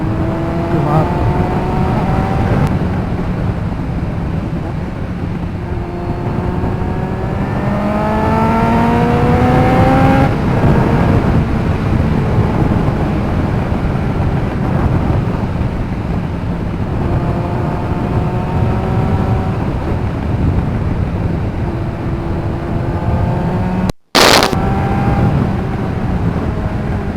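A Kawasaki ZX9R motorcycle engine heard while riding, loud and close, with repeated rising revs through the gears and brief drops between shifts, wind rush throughout and a sharp burst of noise near the end.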